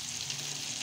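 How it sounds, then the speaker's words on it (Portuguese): Pork crackling (pururuca) frying in a pan gives a faint, steady sizzling hiss for under a second, heard alone without speech. "Aqui do lado, gente, eu vou começar a fritar, ó, a pururuca"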